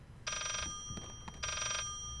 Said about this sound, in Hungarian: Ezért halljuk a telefoncsengést, meg gondolom valahol itt van.